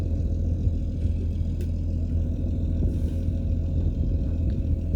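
Boat motoring on just one engine, a steady low droning hum running continuously without a break, with no change in pace.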